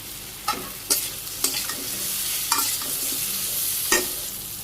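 Potatoes and taro pieces frying lightly in a pan give a soft, continuous sizzle near at hand, broken by several sharp scraping clinks of a spatula against the metal, with no one speaking.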